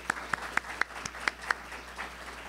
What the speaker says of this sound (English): let's give our first set of panelists a warm round of applause.